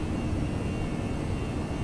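Simulated airliner flying by hand in a flight simulator game on a departure from Knoxville, Tennessee, a steady, loud broadband engine and wind roar, continuous and even throughout.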